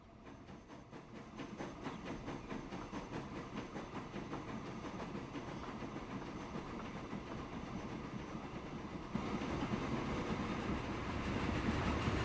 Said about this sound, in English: Let's have a look at the train doing its thing